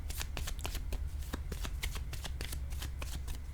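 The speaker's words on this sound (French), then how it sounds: "je vais déposer une autre carte sur les deux avant d'aller trop vite" Playing cards shuffled and laid down on a table during a tarot-style card reading, a rapid series of close, crisp flicks and snaps under a steady low hum, with no talking.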